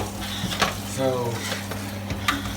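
Pan sauce reducing with butter and meat drippings sizzles steadily at close range, with scattered stirring clinks and scrapes across the pan.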